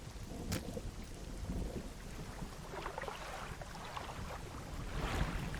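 Storm on the water in the fishing game Dredge: steady rain hiss with low thunder rumbles and a sharp crack near the start, lightning and thunder rolling moderately loud with no talking.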